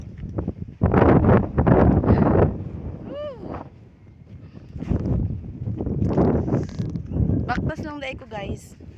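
Strong outdoor wind buffets the microphone in loud, rumbling gusts that surge and ease across the clip, while a person talks intermittently over it.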